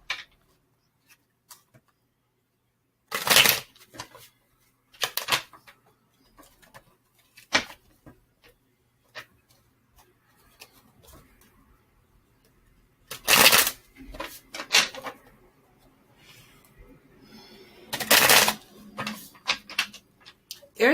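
Tarot cards are shuffled close by in several quick, loud riffling bursts separated by quiet pauses, with faint handling noises in between.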